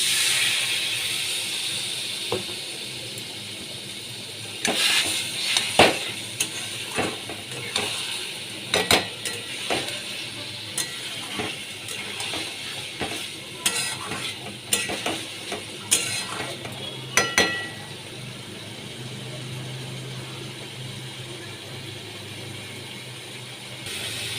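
Kudri and egg curry, seasoned with Kashmiri chilli powder, hisses in a pan after a splash of water, with a steady sizzle broken by sharp scraping and clinking of a spoon against the pan.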